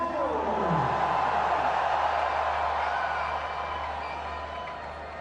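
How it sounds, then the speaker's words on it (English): Crowd noise fills the cricket stadium during a Pakistan vs Australia T20 match, a broad, steady roar that swells slightly and then eases off, distant and continuous with no single voices standing out. "Best crowd of the series so far, they reckon it will be"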